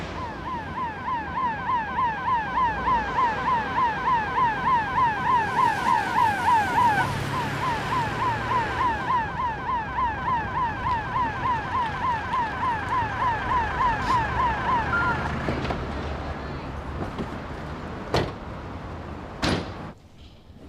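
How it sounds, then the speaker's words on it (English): An ambulance siren in a British TV drama scene wails in a fast, loud, repeating warble for about fifteen seconds, then cuts off and leaves a few sharp knocks and clicks. "Here's the ambulance, Teresa."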